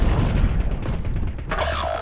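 A deep, rumbling explosion in a Call of Duty zombies mode booms loudly, followed by a sharper crackling burst of debris near the end.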